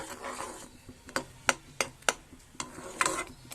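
Prawn chutney sizzles in a pan over a high flame while a spatula stirs it, with sharp scraping clicks at irregular intervals over a constant low fry.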